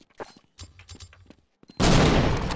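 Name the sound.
explosion of a bomb in the video game Counter-Strike 1.6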